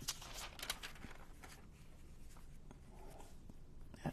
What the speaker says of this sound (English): So I'm gonna cut this out.